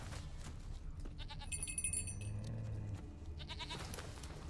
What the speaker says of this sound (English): Okay, the goat's over there.